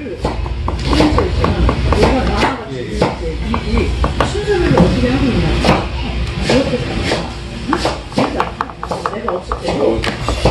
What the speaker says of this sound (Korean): 칼질 대박